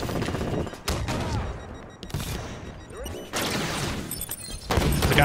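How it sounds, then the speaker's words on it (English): Shotgun blasts in a shooter video game, several loud booming shots spaced a second or so apart, with chaotic combat noise between them. "He's wrecking with this shotgun."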